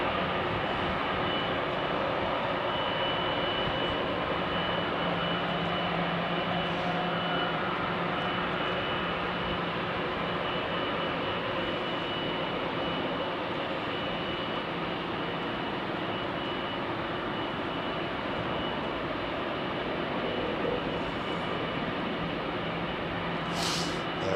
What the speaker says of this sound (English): two Rolls-Royce BR725A112 turbofans